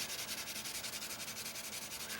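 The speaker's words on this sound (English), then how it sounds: "I'm going to get all of these sanded down to a dull finish." Sanding block rubbed over acrylic press-on nails, a close, steady scratchy rasp with quick regular back-and-forth strokes and no voices.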